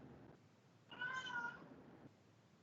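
A house cat meows once, faint and fairly close in a quiet room, a short tonal cry rising and falling over low background hiss.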